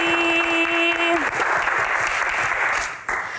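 Audience applause for actress Prilly Latukonsina at a Q&A event, a dense steady wash of clapping from a crowd that swells after a brief sustained tone at the start and holds loud throughout.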